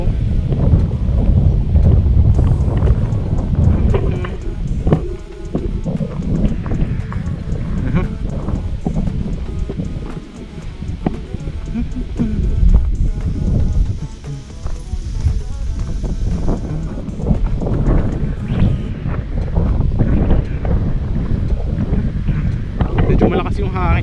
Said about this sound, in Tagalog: Malakas yung hangin dito guys.